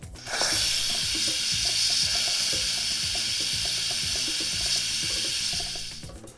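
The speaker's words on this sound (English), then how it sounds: "We're going to release our pressure instantly." A pressure cooker making taco pasta gets a quick release, with a loud continuous hiss of venting steam over a faint rhythmic rattle that rises abruptly and fades near the end.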